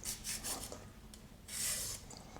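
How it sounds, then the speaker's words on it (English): A handheld julienne iron scrapes along organic carrots with the peel on, cutting them into thin strips in a few quiet, raspy strokes, one longer pass near the end. "the other way you could slice your carrots, these are organic, so I'll use them with the peel, is if you have a julienne iron like this"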